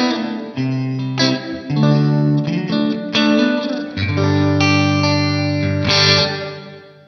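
Electric guitar played through a Poly Effects Beebo pedal whose reverb models the Shepherd's Bush Empire in London: sustained chords and notes ring out loud and close, with a wide, lush tail and some chorus and distortion.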